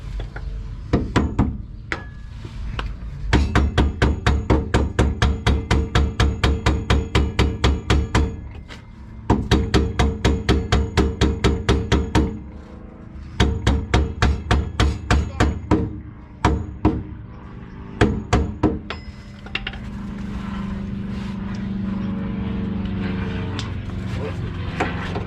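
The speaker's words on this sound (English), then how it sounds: "Tap it in with the hammer." Rapid bursts of sharp metallic hammer taps in quick rhythmic runs as a part is tapped into a third-generation Camaro, pausing between volleys, close by, with a low mechanical hum underneath.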